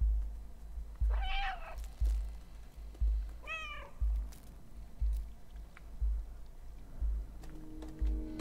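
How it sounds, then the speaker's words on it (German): A cat meows twice in the video game Stray, clear and close, over a steady low thumping beat that repeats about once a second throughout. "Warum soll ich hier miauen?"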